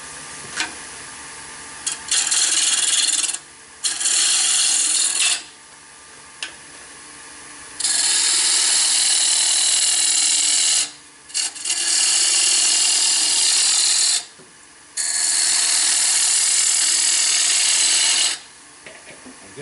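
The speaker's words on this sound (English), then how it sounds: "I'll use the traditional bowl gouge to remove some of that wood just to lighten the head up." A traditional bowl gouge cuts into a wooden wig stand head spinning on a wood lathe, giving loud, harsh scraping bursts of several seconds each, broken by short pauses between passes, close and steady.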